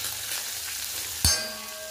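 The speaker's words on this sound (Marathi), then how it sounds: "आता हा आपला तडका तयार आहे, व्यवस्थित हलवायचा आणि तयार" Curry leaves hit hot oil for a kadhi tadka, giving a steady crackling sizzle that is stirred, with a sharp metallic clang from the pan near the middle before the frying noise carries on.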